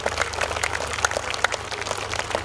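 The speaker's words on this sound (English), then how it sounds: "I request all the children and parents to give a big round of applause and welcome all of them" Children and parents applauding at a high school function held at a church, a continuous spatter of many claps at moderate level over a steady low hum.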